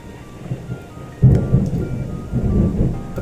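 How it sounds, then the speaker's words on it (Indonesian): Thunder rolls through steady rain during a storm, a loud low rumble breaking out about a third of the way in and sustaining through to the end, with the rain's hiss underneath. "Petir, ada petir ternyata. Lagi hujan di sini."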